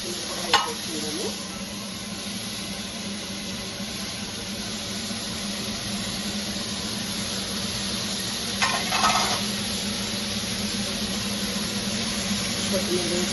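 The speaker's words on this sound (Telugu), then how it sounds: "కొత్తిమీర వేసి ఇలా కలుపుకోవాలి" Coriander being stirred into a tomato curry in a pan, a steady sizzle and hiss with a couple of brief scraping clinks of the spoon against the pan.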